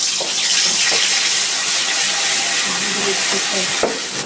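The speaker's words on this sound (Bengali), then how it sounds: "আমি অল্প একটু জল দিয়ে দিচ্ছি" Water poured into a pan of thin pabda fish curry with ridge gourd, a loud, steady rushing hiss with steamy sizzle, close and continuous for a few seconds.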